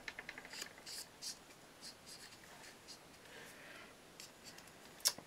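Pen scratching along paper as it traces a black outline for a scrapbooking pennant, a close, quiet, uneven rubbing with short strokes and pauses, alone without talk.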